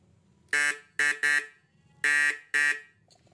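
A homemade electronic Vespa horn driver sounding in five short loud honks, a buzzy reedy tone in uneven bursts with quiet gaps, close and alone.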